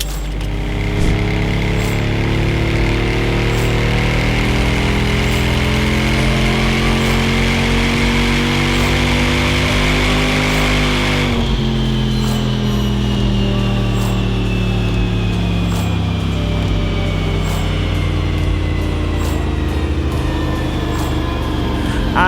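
Jaguar XKR, remapped and fitted with an upper pulley upgrade, running hard on a dyno. The engine roars loud and steady as its pitch climbs, then drops sharply before settling into a sustained high drone, with no talking.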